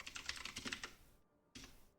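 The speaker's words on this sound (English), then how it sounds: "this was me typing in chat." Fast, close typing on a computer keyboard while chatting during a Space Force tournament match, a dense run of key clicks that stops abruptly and then starts again briefly.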